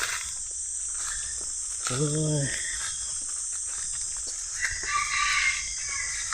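A single short chicken call rings out nearby against a constant high chirring of insects, with faint scattered noises afterward.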